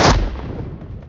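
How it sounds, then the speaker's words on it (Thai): A single sharp blast from an incendiary grenade in the video game Metro Royale hits at the start, then quickly decays into a rumbling tail over about a second. "เอาปาระเบิดไฟก่อน"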